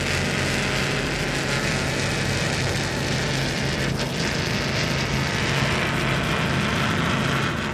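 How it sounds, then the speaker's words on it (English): Mercury Racing 700 engines on a powerboat in a Key West poker run give a loud, unbroken roar that holds steady with dense low rumble and hissing spray for several seconds, with no voices. "those Mercury Racing 700s are way louder than this new generation of motor"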